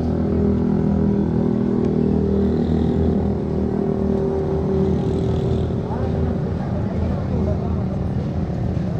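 A motorcycle on a Sunday group ride gives a steady, close engine drone mixed with wind roar, holding an even level from start to finish without a break.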